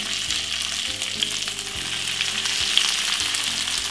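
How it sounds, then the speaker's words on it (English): Shredded cabbage sizzles steadily in a little olive oil in a medium frying pan for a Jamaican stir-fry, a close, continuous crackle and hiss with no voices. "Pop just a pinch of olive oil inside of it, not too much. Simple put 2 handful of stir-fried cabbage."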